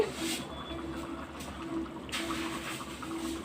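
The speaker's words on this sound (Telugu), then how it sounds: "కాస్త వాటర్ అనేది వేసేసుకుంటున్నాను" Water is poured into a pan of masala fish curry with fish heads, a soft, steady trickle close by with no talking.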